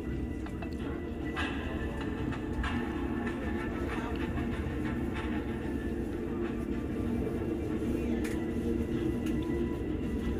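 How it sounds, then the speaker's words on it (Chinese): Inside an old green passenger train leaving Guangzhou, a steady, loud low rumble fills the carriage, with faint clickety-clack and a few light clanks over it. "下午6点钟，列车准时出发。"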